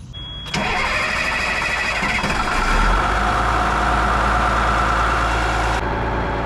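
A rare old military prototype truck that had not run in years cranks and catches after priming, then settles into a loud, steady rough idle with a deep rumble that holds close and unbroken until it cuts off near the end.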